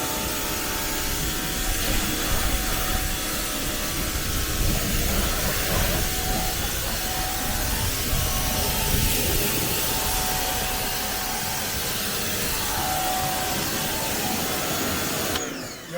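Pressure washer spraying the engine bay of a Corvette C8, a continuous loud hiss and mechanical whine with faint humming tones, steady for the whole stretch before cutting off at the end.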